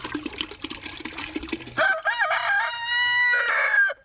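A rooster on a backyard egg-laying chicken flock crows loudly and close, a long drawn-out call over softer clucking and farmyard murmur beforehand.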